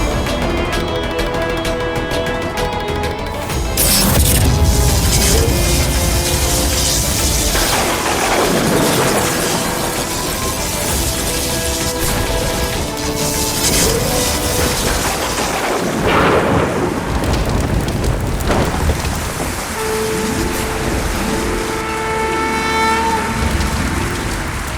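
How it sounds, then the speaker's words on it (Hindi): Thunder rumbles and crashes over heavy rain in a devotional drama, loud rolling peaks and sharp cracks repeating across the stretch, layered with dramatic music and no speech. "इस ऋतु में वर्षा?"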